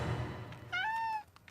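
A cat gives a single clear, rising-then-falling meow in a British milk advert, close and distinct after a brief low rumble, with no talk over it.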